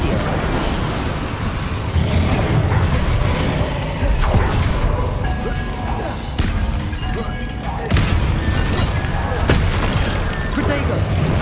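Incendio fire spell cast in the video game Hogwarts Legacy, heavy booming blasts and crackling bursts layered over continuous loud combat noise, with voices talking throughout.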